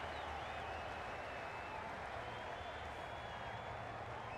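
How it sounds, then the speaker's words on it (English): A stadium crowd in a cricket video game applauds and cheers in a steady, dense wash of sound, a distant roar that holds constant throughout. "The crowd are loving every minute of this game."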